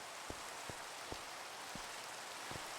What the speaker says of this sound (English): I know a lot of people hate the rain. I love the rain.